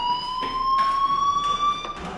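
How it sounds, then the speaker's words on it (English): A fire alarm in the video game Life Is Strange rings with a steady, piercing electronic tone, pulsing in short repeated bursts, loud and alone. "Hey, do you hear that fire alarm?"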